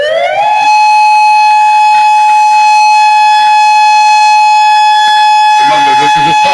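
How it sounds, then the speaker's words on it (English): A loud, sustained siren test tone from the Atlantic City warning system, broadcast citywide. It rises quickly into a steady piercing wail that holds for about five seconds, then breaks off into a burst of muffled noise. "This is a test of the Atlantic City warning system. The next tone will be very loud."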